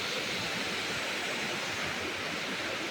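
A waterfall gives a constant broadband rushing roar, steady and moderately loud with no pauses.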